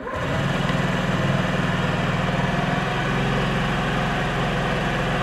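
A 2024 Honda Ruckus 50cc scooter engine fires up and settles into a steady, close, buzzing idle with an even low putter throughout, no talking.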